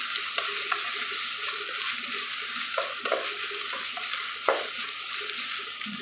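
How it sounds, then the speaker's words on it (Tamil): About 100 grams of onions frying in a pan for mushroom biryani, a constant close sizzle broken by occasional stirring scrapes and taps, no one speaking. "வெங்காயம் நல்லா வணங்கட்டும்."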